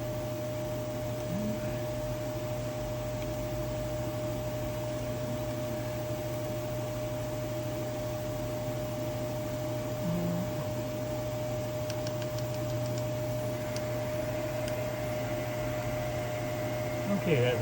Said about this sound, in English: we'll go ahead and do a spindle test